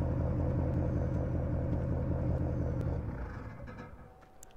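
A Chevy pickup truck's engine in a farming video game idles with a loud, steady, deep rumble, then winds down and fades as it is switched off.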